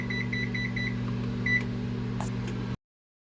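An oven control panel beeps while being set to 400 degrees, a run of quick short beeps followed by a longer single tone over a steady low appliance hum.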